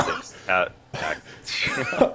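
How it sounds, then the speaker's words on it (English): A few short, harsh coughs and throat-clearing bursts close to the microphone, separated by brief pauses. "Sorry, I had a little bit of a cough right there."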